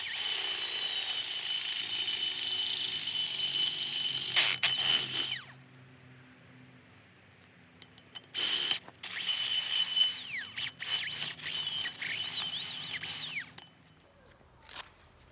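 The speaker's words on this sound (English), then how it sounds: "There we go, hole drilled." A power drill boring a 3/8-inch hole through a pipe to pass a cable, heard as a steady close whirring stretch that stops, then several shorter bursts and stops.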